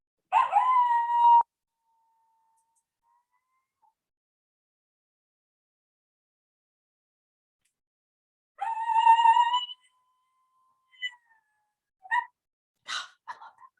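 Coyotes howl in a recording, a rising wavering howl at the start, then after a long silence another howl followed by short yips and barks, clear against a quiet background.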